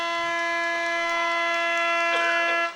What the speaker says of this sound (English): the siren rings out for quarter time